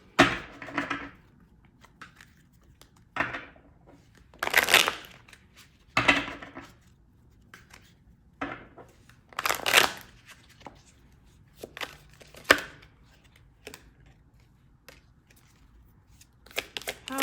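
Tarot cards being shuffled by hand: repeated short riffling and slapping bursts at irregular intervals, close and fairly loud, with quiet gaps between them.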